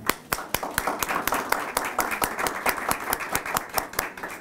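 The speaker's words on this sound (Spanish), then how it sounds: "a quien recibimos con un cálido aplauso" Warm applause from an audience at a state radio and television press conference for a film festival, welcoming a board member; steady close clapping with distinct sharp claps throughout.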